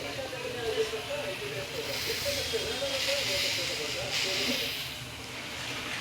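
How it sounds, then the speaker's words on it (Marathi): Ginger tea heating in a pot on a stove on a rainy day, giving a steady soft hiss and faint simmering bubbles throughout at low level, with no speech. "तर आता इकडे मी अद्रक टाकून चहा ठेवला आहे"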